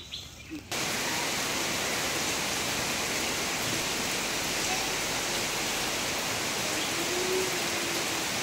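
Steady, dense rain falls continuously, a loud broadband hiss after a brief quieter moment at the start, with no talking over it.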